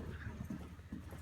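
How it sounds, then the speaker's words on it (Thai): A horse cantering on a farm, hooves clip-clopping in a quick rolling rhythm, close and fairly soft, lasting only a moment. "อันนี้ขี่ในจังหวะแคนเตอร์"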